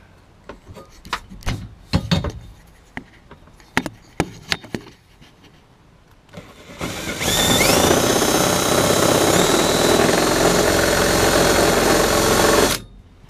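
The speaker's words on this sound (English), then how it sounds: "I'm gonna quickly drill this out." Scattered knocks and handling clatter give way to a loud, steady power drill whirring for several seconds, its pitch shifting slightly as it bites through a car body's metal while holes are drilled for a roll cage.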